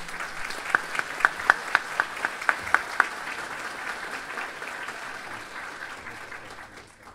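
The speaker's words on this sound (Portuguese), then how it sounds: "Por favor, Gerson, recebendo nossos carinhos, nossos aplausos." An audience at an evening talk on fighting corruption applauds, with a dense burst of clapping, a few sharp claps standing out early, then slowly thinning.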